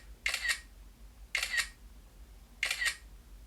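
iPhone 15 Pro Max camera shutter firing three times while capturing HEIF photos, each a quick crisp double click spaced about a second and a quarter apart, close and clear over a quiet room.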